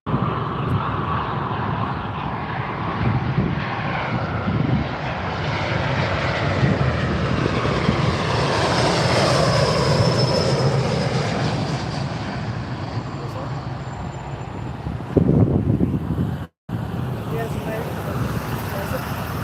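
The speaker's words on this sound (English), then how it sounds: "British Airways A319 coming in now." A British Airways Airbus A319 lands on Heathrow's runway 27R, its loud jet roar swelling steadily as it passes close by, then trailing off under wind noise, with a brief burst of nearby voices near the end.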